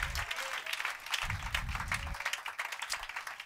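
A church congregation applauding, a dense, steady patter of many clapping hands heard fairly close, with low voices mixed faintly underneath.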